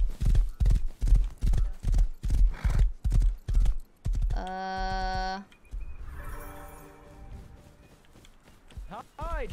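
Rapid, even clip-clop of horse hooves on a hard surface in the video game Rust, then a sharp tonal game-like chime and a horse whinny, with brief voices.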